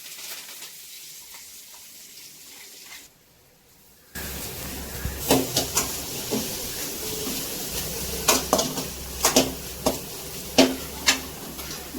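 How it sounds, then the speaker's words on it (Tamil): Ground paste dropped into hot oil with popped mustard seeds, a sudden rise into steady sizzling after a quiet start, punctuated by repeated sharp scraping stirs close by. "இப்ப நம்ம அரைச்சி வச்சிருக்கோம் இல்லையா, எண்ணெயில போட்டு நல்லா வதக்கிக்கலாம்"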